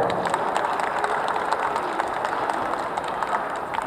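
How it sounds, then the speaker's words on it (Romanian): Steady audience applause at a cultural performance marking the Union of the Romanian Principalities, dense continuous clapping from a crowd at moderate distance throughout. "Doamna profesor Nicoleta Daniela Corboș, vă rog să o aplaudați."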